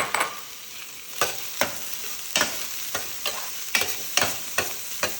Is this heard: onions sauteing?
yes